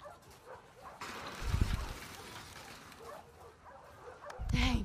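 A dog barks and yips in The Last of Us Part II, with two deep, loud bursts close by over steady game ambience and no one talking.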